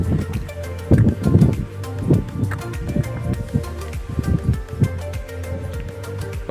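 Strong wind gusts buffet the microphone on the Cemoro Sewu hiking trail up Mount Lawu, a loud rumbling roar with repeated rattling thumps and rustling throughout.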